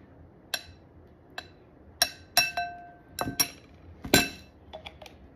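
A spoon clinks against a glass container as half a spoonful of castor oil is added, making a series of bright, separate close ringing taps and clatters with quiet pauses between them.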